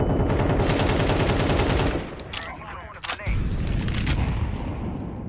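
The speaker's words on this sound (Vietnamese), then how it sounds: "bắn kinh thế" Rapid automatic gunfire from a CS:GO 2 match, loud sustained bursts for about two seconds, then scattered shots and a short gap before heavy firing resumes to the end.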